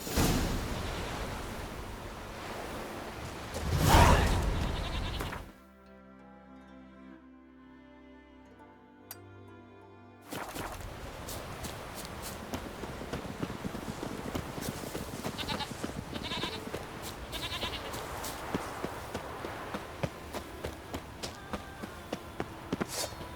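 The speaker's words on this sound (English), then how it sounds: "Heard the Benny goats" Goats bleat in the Skellige region of The Witcher 3: Wild Hunt over a noisy outdoor game ambience, then the sound drops to near silence before busy ambient sound returns.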